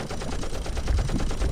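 Rapid automatic gunfire rattles in a dense continuous burst of evenly spaced shots, loud and close, with no talking over it.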